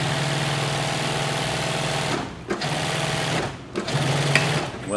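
Sewing machine stitching golf cart seat upholstery, a loud, steady mechanical whirr running continuously with two brief pauses where the motor slows and restarts.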